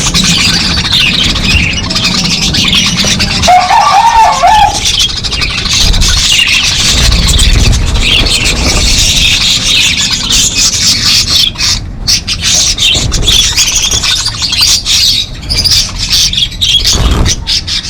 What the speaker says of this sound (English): Some of our birds at home.